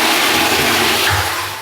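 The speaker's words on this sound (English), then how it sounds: "give it a flush to test it." A toilet with a newly repaired flush button is flushed, giving a loud, close rush of water that holds steady and then begins to fade. No talk is heard.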